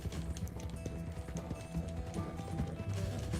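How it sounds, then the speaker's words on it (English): In the Western video game Red Dead Redemption 2, a horse gallops with a steady, rapid clip-clop of hooves. Busy game sounds and music play around it. "The horse is running out of stamina here."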